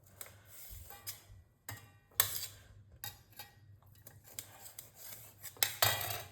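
Sharp knife taps and clicks against a plate while cutting lemons, irregular and close, with brief slicing scrapes between the louder knocks.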